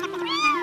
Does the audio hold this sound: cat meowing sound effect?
yes